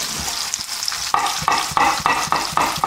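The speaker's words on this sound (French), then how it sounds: "on met tout ça dans la poêle, on va faire revenir ça" Sliced potatoes sizzling in a frying pan for a Savoyard truffade, a steady close hiss with rhythmic pulses of stirring roughly every half second, no voices.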